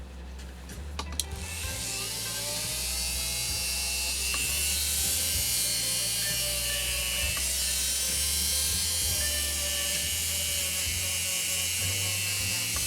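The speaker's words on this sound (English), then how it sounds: "I'm going to polish it up real quick" A polishing brush spins on a rotary tool held at its lowest speed setting, giving a steady high whirring buzz. It starts after a few clicks, then runs continuously and close up.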